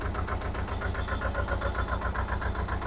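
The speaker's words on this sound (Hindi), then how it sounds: "यहाँ पर किसान भाइयों आप देख सकते हैं ट्रैक्टर जो है वो स्टार्ट है और इसकी आवाज देख सकते हैं आप" A mini tractor engine idles steadily nearby on a farm, a low continuous chugging with an even pulsing rhythm and no talk over it.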